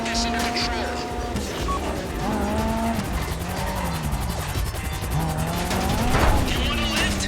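Car engine and tyre noise from a getaway drive in GTA Online, steady and loud throughout with skidding squeals, heard under game dialogue and voices.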